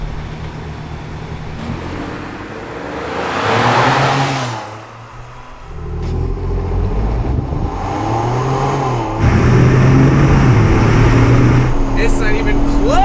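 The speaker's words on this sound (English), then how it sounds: "Two-wheel drive, rev it up, here we go." A Ford Bronco Raptor launches hard in a drag race, its engine revving loudly and climbing through gears with rising pitch, while voices talk over the roar and road noise.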